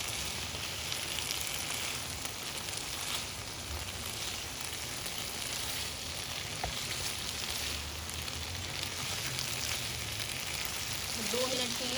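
Malai boti chicken pieces sear on high heat in a pan, a dense, even sizzle that holds steady and close throughout, with no clear stirring or voices.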